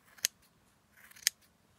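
Two crisp scissor snips about a second apart, trimming a yarn pompom, close and fairly quiet, with a faint background hiss and no talking.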